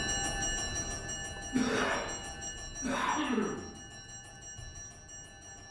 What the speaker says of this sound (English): we'll wait till the bell stops and then invite you to continue.